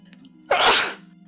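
One sharp, loud sneeze bursts out close to the microphone over a faint steady hum.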